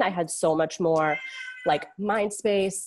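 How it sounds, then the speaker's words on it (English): A cat meows several times close to the microphone, its cries mixed in with a person talking. "Sorry, that's a cat."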